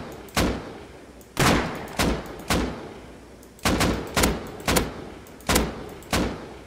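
Gunfire in the survival game Rust: about a dozen loud, sharp single shots fired in a steady, evenly spaced rhythm, with no voices over them.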